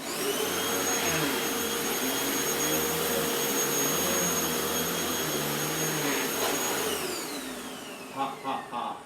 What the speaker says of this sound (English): we're starting with the vacuum next to the candle